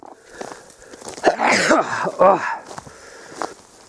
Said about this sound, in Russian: чихнул.